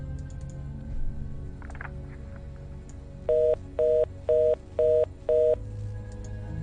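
A handset on a phone in military barracks gives out a hang-up tone after the caller drops the line: five evenly spaced, loud electronic beeps. A few faint clicks come before them.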